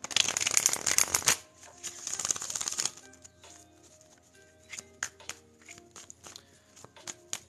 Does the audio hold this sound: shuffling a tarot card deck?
yes